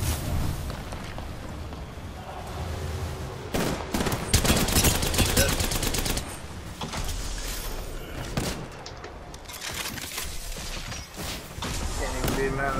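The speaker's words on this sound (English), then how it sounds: "That guy got shot at by another squad" Dense rapid gunfire between squads in the battle-royale game Apex Legends, sustained bursts and booms filling the whole stretch with a player's voice talking over the fight.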